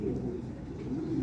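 Racing pigeon cooing nearby in a low, soft, rolling murmur that swells and dips steadily through a brief moment, with no other sounds over it.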